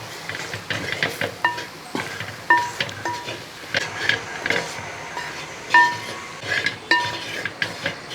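Ginger, garlic and spice powders being stirred in a pan while cooking a Kerala-style fish curry, with a spoon scraping and clinking against the metal in repeated short strokes, close and moderately loud.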